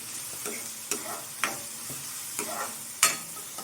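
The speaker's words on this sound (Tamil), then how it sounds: "இப்போது வெங்காயம் பார்த்திங்கன்னா வந்து கோல்டன் ப்ரௌன் ஆகிற ஸ்டேஜ் வர வரைக்கும் நல்லா வதங்கட்டும்" Onions sautéing in a pan for boiled egg masala, a soft constant sizzle punctuated by five or six sharp spatula scrapes and taps at roughly regular intervals, close and without speech.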